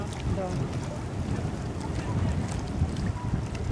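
A motorboat overtakes on the right during a sailing race, its engine a low churning rumble mixed with wind buffeting and water noise.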